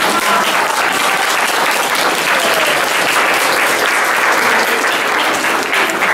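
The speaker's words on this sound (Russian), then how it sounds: "Давайте друг другу похлопаем" A large audience applauds continuously and loudly in a hall at a Lithuanian consulate gathering in Saint Petersburg, a dense, steady wash of clapping from start to finish.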